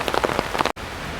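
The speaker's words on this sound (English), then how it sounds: "It's raining quite heavily" Heavy rain pours steadily onto a surface along a rail corridor in Singapore, a dense hiss with pattering drops; it cuts off abruptly for a moment, then resumes more evenly.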